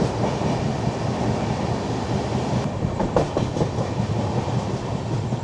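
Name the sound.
passenger train running on rails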